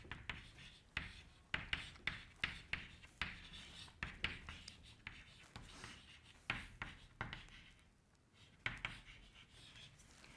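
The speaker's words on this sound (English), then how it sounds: "So, let me write." Pen or chalk writing out notes during a physics lecture on special relativity, heard as quick rhythmic scratching strokes in short bursts, fairly close and moderately faint, with no speech over it.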